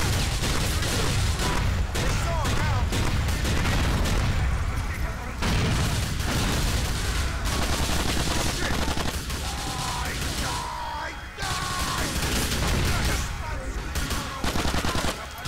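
Explosions and gunfire from the video game The Ballad of Gay Tony, a dense, loud barrage of blasts and shots running continuously throughout, with a voice speaking over the chaos.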